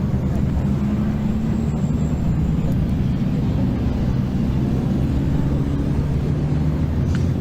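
Racing trucks at Thruxton in the British Truck Racing Championship rumble around the circuit to line up, a loud, sustained, low engine drone with a faint tone and some distant crowd noise.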